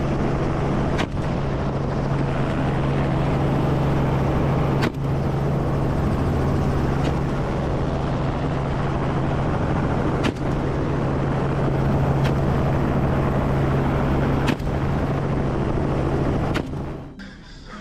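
A steady, loud helicopter drone with a constant low rotor hum during a wild pig hunt, punctuated by a few sharp distant cracks like gunshots, fading slightly at the end.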